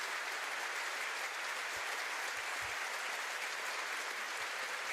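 A comedy-show audience claps as a comedian takes the stage, a faint, distant, steady patter of applause with no voices over it.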